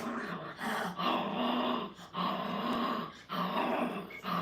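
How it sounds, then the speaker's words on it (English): Dog growling in a puppy crate training kennel, rumbling growls in repeated bursts with short breaks between them, close and fairly loud. "Why are you growling so much for?"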